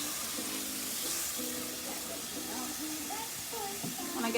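Mushrooms sizzle and fry in a hot pan, a steady broad hiss running throughout with faint clinks and tonal kitchen sounds layered over it, loud and close.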